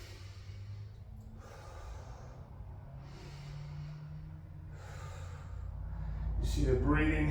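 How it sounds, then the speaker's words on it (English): Heavy rhythmic breathing during a leg workout in a garage: several long, forceful exhales spaced a few seconds apart, rising into a louder, rougher gasp at the end. "See the breathing always happen. The exhale, I exhale when I do the effort."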